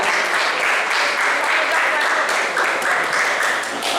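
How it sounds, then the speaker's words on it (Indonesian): A group of students applauds during an anti-drug awareness session, steady clapping from many hands with a rhythmic pulse for four seconds, moderately loud, with faint voices in the background. "Kasih tepuk tangan untuk teman-teman"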